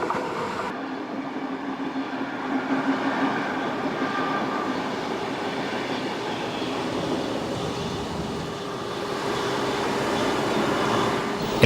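Train running through the rugged Pajares mountain pass in Spain, a steady rumbling roll of carriages with faint clatter and high squealing tones, close and continuous throughout, no voices.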